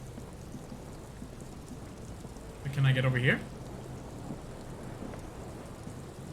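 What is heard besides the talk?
rain and thunder in video game Disco Elysium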